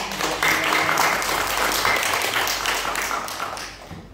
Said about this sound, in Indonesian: Boleh tepuk tangan dong.